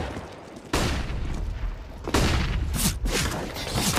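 Rapid gunfire from a professional CS:GO match on the Train map, with sharp broadband bursts that start abruptly, overlap into dense volleys and return in clustered waves at close range.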